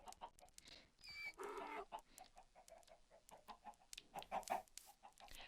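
Chickens in the Minecraft video game cluck in a steady run of short, bright calls, with one louder burst of squawking early on and a busier cluster of clucks near the end.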